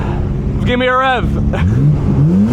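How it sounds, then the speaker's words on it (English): At a car meet, an engine gives a short, loud rev that rises sharply and drops within half a second, followed by a rising engine note as people talk nearby. "Give me a rev."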